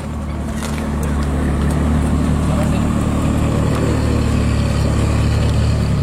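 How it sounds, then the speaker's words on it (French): Lotus Evora 400 and Evora GT 410 sports cars arriving at a supercar gathering, a steady loud engine rumble and road noise filling the scene continuously amid crowd ambience. "On a deux Evora qui arrivent. Evora 400. Evora GT 410."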